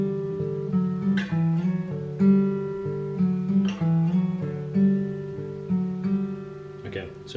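Guitar repeats the first half of the riff, a short run of plucked notes that cycles several times; it sounds close and moderately loud, with bright pick attacks and no singing.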